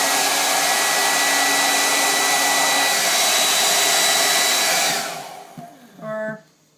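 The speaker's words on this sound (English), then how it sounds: "most of you are going to be using a blow dryer to do this, so that's what I'm going to use to heat this up" A blow dryer heats a Jamberry nail wrap with a loud, steady whooshing roar held close for about five seconds, then shuts off and winds down, followed by a short faint whir.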